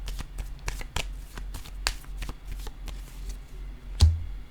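Deck of tarot cards being shuffled and handled at close range, a quick run of crisp riffling flicks and snaps with one louder slap near the end, no talking.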